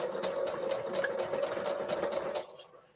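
A sewing machine stitches binding onto a quilt, running at a steady, close whirring hum with a slightly rough mechanical rattle, as the machine is due for oiling, before it stops near the end.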